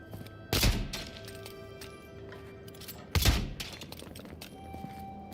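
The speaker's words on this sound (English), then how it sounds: "it's a magic pistol" Two loud, sharp shots from a magic pistol in the fantasy game Avowed, about three seconds apart, each ringing out briefly over a low, steady game ambience.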